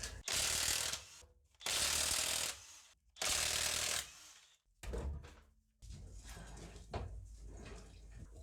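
A ratchet or impact tool whirs in three loud bursts, then clanks and thuds follow as a wheel comes off a Mercedes S-Class W220 S320 with a stuck brake caliper, close in a workshop.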